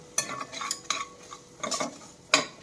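Onion frying with ginger-garlic paste in a pan, stirred in quick bursts of close spatula scraping and clinks over a soft sizzle. No voices.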